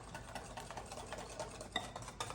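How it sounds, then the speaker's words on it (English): Carrot cake cupcake batter is stirred in a bowl, making soft rhythmic scraping and light taps of the utensil against the side, faint and close with no voice. "let's mix that up, and then we will add in our remaining dry ingredients"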